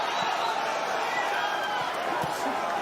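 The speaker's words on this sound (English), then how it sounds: "you can hear the crowd, the support here" Boxing arena crowd roars and cheers in support during the Josh Taylor vs Teofimo Lopez fight, a continuous loud wash of voices with a few thumps and slaps, under ringside commentary.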